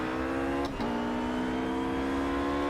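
RUF GT3 race car engine in Project Cars at the Nurburgring, a loud sustained high-revving whine that drops sharply on a quick upshift, then climbs again, with no voices.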